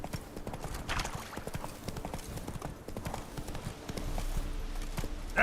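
Roach, a horse in The Witcher 3, gallops with quick, rhythmic hoofbeats close and steady for the whole stretch, a low rumble swelling toward the end.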